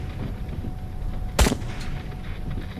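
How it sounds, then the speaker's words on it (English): A single sharp gunshot rings out from the Trans-Siberian Railway Simulator video game, sudden and loud against a low, rumbling game background. "Boom! That was a headshot."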